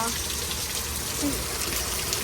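Heavy rain on a road in Mississauga, a dense continuous hiss and rush of water without a break, loud and close, with a voice speaking over it.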